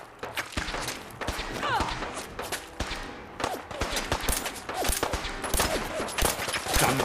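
Weapon fire in the post-apocalyptic game Fallout 4, a rapid run of sharp, punchy shots in irregular bursts with thuds and impacts, loud and close, over a brief stretch of quieter game sound.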